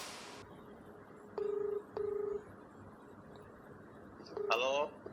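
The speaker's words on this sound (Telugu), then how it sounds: "సో ఫస్ట్ ఇప్పుడు ఒకసారి ఆయనకు ఫోన్ చేయి ఒకసారి" Telephone keypad dialing tones sound as a call is placed: two evenly spaced beeps, a pause, then a third beep running into a rapid burst of tones, all fairly clear over quiet background hiss.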